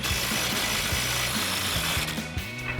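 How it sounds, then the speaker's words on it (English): A ratchet wrench loosens the lower control-arm mounting bolt on a 2020-2026 Chevrolet Silverado 2500, clicking in a quick, even rhythm of close, loud pawl ratchets throughout. "So we'll get in and get this lower bolt off."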